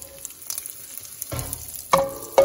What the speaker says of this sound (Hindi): भिंडी की सब्जी में थोड़ी राई ऐड करती हूँ, थोड़ा जीरा ऐड करती हूँ, थोड़ी हींग ऐड करती हूँ।